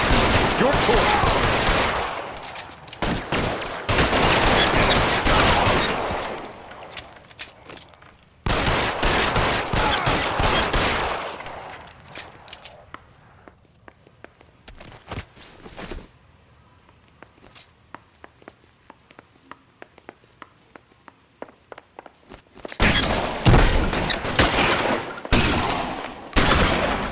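Gunfire in the video game L.A. Noire: loud, dense bursts of rapid shots and volleys, then a quieter stretch of scattered single shots and footsteps, then another heavy fusillade.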